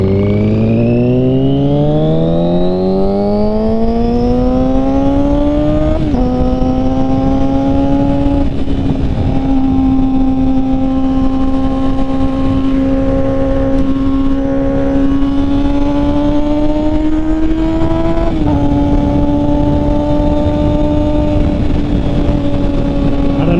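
Motorcycle engine drones loudly and steadily while riding on the freeway, pitch climbing as it accelerates through gears with brief dips at shifts, under constant heavy wind rush.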